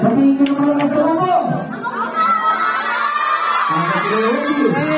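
A crowd of children at a neighborhood birthday party shouting loudly together in response, a sustained, close, cheering chorus of young voices with overlapping calls.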